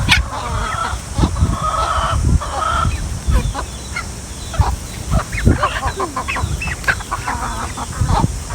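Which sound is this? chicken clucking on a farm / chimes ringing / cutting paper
chicken clucking on a farm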